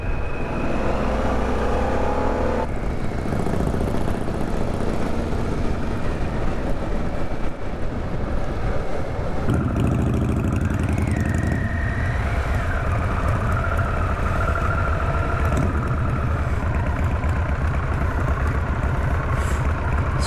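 Motorcycle engine running on a ride in Carndonagh, Ireland: a loud, continuous close drone with shifting pitch throughout, mixed with steady wind noise.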